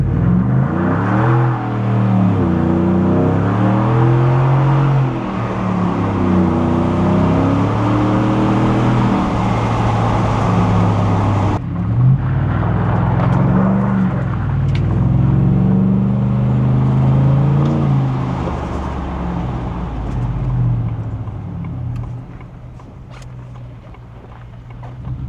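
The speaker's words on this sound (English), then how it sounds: "Okay, I'm gonna try to floor it and we'll see if everything slides back here." A Ford F150 pickup truck floored at full throttle, its engine droning loud and steady from inside the cab, with rising and falling tonal sweeps as it pulls through the gears.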